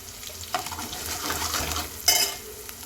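Garlic, dried red chillies, curry leaves and turmeric sizzling in hot oil for a tempering, a crackling fry with stirring scrapes in the pan and one brighter spitting burst near the end, close up.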